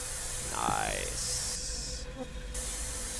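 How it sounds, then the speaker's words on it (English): Spray paint can hissing in the horror game Erie, a few short bursts of spray with a rattling squeal among them, close and moderately loud, with a brief spoken word. "you can actually spray paint everywhere"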